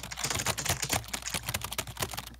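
Computer keyboard typed right up against a microphone, a dense, loud, rapid clatter of keystrokes filling the whole stretch with no talking.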